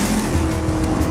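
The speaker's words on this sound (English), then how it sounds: "The car just sticks to the corners, and it's very fast and feels very secure." A race car roars fast through corners at the Area 27 circuit, a loud continuous engine drone with tires squealing as it grips the track.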